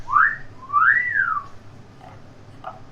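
A wolf whistle by a person: two rising-then-falling whistled notes, the second longer and sliding down, close and clear over low background hum, followed by faint trailing whistle fragments.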